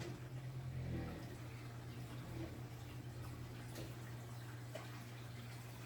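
An aquarium return pump running in a planted tank setup gives a steady low motor hum beneath faint trickling and gurgling of circulating water.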